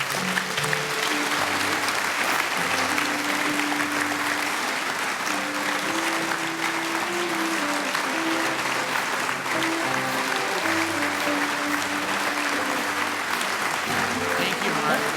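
An audience applauds at an award ceremony as Governor Shumlin is welcomed, with loud, dense clapping that keeps up steadily for the whole stretch and some crowd voices mixed in.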